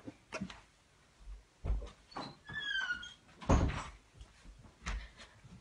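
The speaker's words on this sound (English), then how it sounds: "I just closed my door." An indoor door being shut, with several knocks, a rattle and a heavier thunk amid faint room noise and a few squeaky scrapes.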